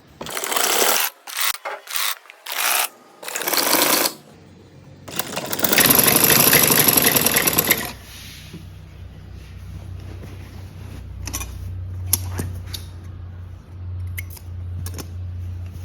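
A sewing machine stitches a fold of kurti fabric, a steady loud whirring run after several short bursts, then fades to a low hum with faint handling.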